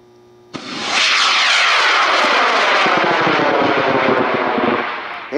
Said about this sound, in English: M33 Pike going up on an L900 dark matter. Lots of flames, smoke, sparks, noise.